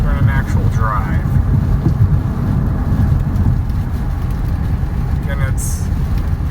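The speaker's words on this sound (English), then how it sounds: "we're driving now on the highway, 60 miles an hour" Car cruising on a highway at 60 mph with the air conditioning running: a steady, dense low rumble of road and wind noise that stays constant throughout, with no one speaking.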